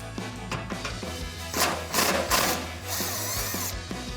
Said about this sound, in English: So we're going to remove them with our gun and our 12 millimeter.